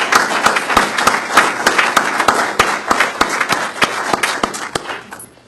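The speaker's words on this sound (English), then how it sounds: "I want you to take a moment and give yourselves a hand clap" At a conference keynote, an audience of men and women claps hands in a close, loud wash, with sharp individual claps standing out before it tapers off near the end.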